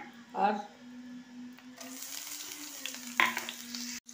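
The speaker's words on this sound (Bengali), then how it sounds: "রসুন ফোড়ন দিলাম।" Dried red chillies, green chillies and garlic tempering in hot oil, with a sudden loud sizzle that rises and holds, a few clinks, and a voice speaking over the start.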